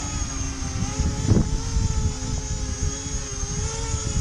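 An E-flite Convergence RC plane hovers in strong wind, its electric motor and propellers producing a steady high whine over heavy low wind rumble, continuous and fairly close.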